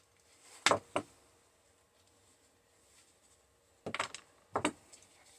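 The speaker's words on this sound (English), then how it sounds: "Now, this is a little different plug, but we're going to cut these off." Side cutters snip through the plug wires of an automotive HVAC blower motor being scrapped: two sharp close cuts, a pause, then two more snips in a quiet room.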